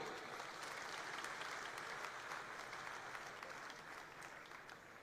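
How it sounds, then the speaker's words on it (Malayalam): An audience at a church reunion anniversary celebration claps in sustained, even applause that stays fairly faint and distant throughout, with no talk over it. "നമുക്കൊരു നിറഞ്ഞ കയ്യടി അടിക്കാം"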